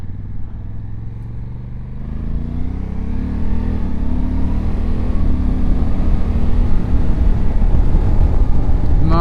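A 2024 Honda Africa Twin DCT ES motorcycle pulls away and accelerates, its engine note climbing steadily through the gears and growing louder and fuller over several seconds, with a constant rush of wind and road noise.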